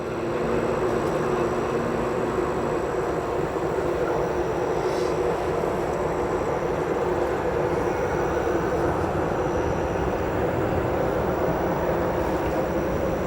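A large airplane approaching O'Hare Airport to land, about 2,000 feet up and six nautical miles out, gives a steady, loud jet roar and rumble that holds constant throughout.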